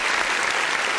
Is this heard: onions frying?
no